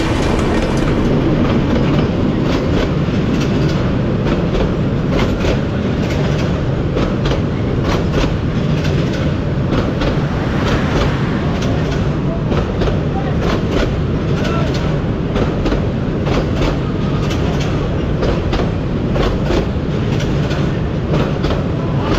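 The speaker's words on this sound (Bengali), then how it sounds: "যদিও আজকে কপালটা ভালো যে ট্রেন চলে আসছে।" A train rolls past on railway tracks beside the Teesta riverbank, a loud, steady close-up roar with continuous rhythmic clickety-clack from the wheels lasting the whole time.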